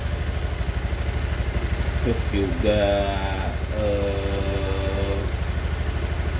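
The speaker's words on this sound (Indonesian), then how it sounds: "Bisa kedengeran mesin masih halus." A Honda Vario scooter engine idles smoothly with a steady, fast putter throughout after a water pump replacement, while someone speaks briefly over it.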